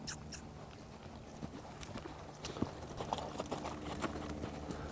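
A horse walks on hooves during rope-introduction groundwork, with steady, close clip-clop footfalls and a few sharper knocks over a low background hum.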